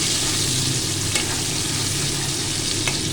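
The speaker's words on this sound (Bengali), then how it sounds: "এর মধ্যে ডুমো ডুমো করে কেটে রাখা পেঁয়াজটা আমি দিয়ে দিলাম।" Diced onion fries with grated ginger in a pan for chilli chicken, a loud, constant close-up sizzle with a couple of faint stirring clicks and no voices.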